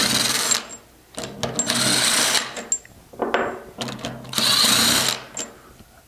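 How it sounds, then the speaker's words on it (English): A power tool whirs in several short bursts, alternating with clicks and handling clatter, as bolts come out of the cover of a V10/V20 vane pump. "first thing you want to do is remove these four bolts"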